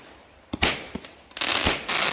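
Fireworks go off at a Canada Day campsite, with several sharp bangs followed by crackling, fizzing bursts that come in close, loud waves.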